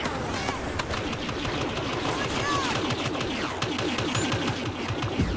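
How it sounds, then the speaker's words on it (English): Blaster fire in a Star Wars Battlefront multiplayer battle, dense overlapping laser shots and explosions rattling continuously, with a voice talking over the din. "Where was that guy shooting me?"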